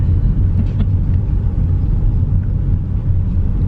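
Road traffic at four in the afternoon, a steady, dense low rumble of passing vehicles that runs without a break and with no voices.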